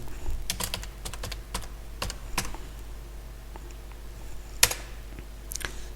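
Computer keyboard typing, scattered individual key clicks and short runs over a steady low hum, close and moderately loud.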